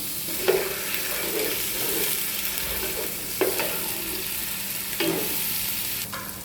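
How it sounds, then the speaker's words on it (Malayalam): Ginger garlic paste sizzles steadily in hot oil while being sautéed for a fried chicken biryani, with a constant close frying hiss broken by a few sharp scrapes of stirring. "എണ്ണ നന്നായി ചൂടായിട്ട് വന്നിട്ടുള്ളത് നമുക്ക് ഇഞ്ചി വെളുത്തുള്ളി പേസ്റ്റ് ചേർത്ത് കൊടുക്കാം."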